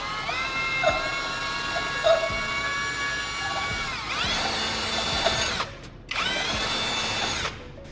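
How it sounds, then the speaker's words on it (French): A standard twist drill bit is driven against a glass bottle, making a steady, loud power-drill whine that runs almost continuously, changes pitch when the drill speeds up or slows, and stops briefly twice. "J'ai d'abord essayé de percer directement dans le verre avec un forêt hélicoïdal standard."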